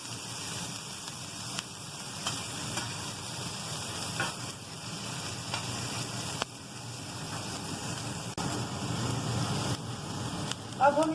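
Goat liver (kaleji) frying on a tawa under a lid over low heat, giving a steady soft sizzle with faint crackles, quiet and continuous throughout.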